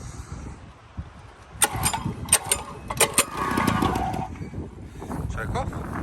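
A small 2-stroke edger engine, under repair indoors in a sitting room, sputters and revs toward full throttle in uneven bursts, close by, with someone talking over it.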